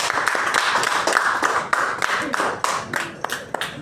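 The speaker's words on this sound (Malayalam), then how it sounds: "കൈയടിച്ചെല്ലാരും" A group at a home birthday celebration claps along in quick, uneven bursts, loud and close, filling a few seconds with overlapping hand claps.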